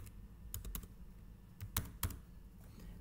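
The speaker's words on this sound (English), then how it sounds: "I will type here client visit," Typing on a computer keyboard while entering a client visit into an application form: scattered close key clicks with a few sharper taps, steady quiet room tone underneath, no talking.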